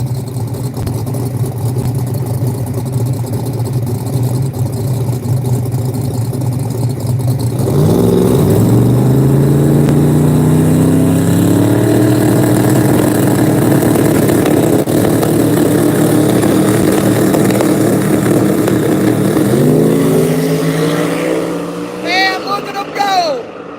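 A lowered 1969 Chevrolet Camaro drag race car roars down the left lane at a Thursday night qualifying session in St. Louis, its loud engine note climbing through gears and surging over steady crowd and track noise.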